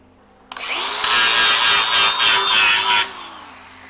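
An angle grinder grinds down a weld on steel during metal fabrication for a firewood bundler, a loud, close, steady whine lasting about two and a half seconds with slight rises in pitch, heard alone.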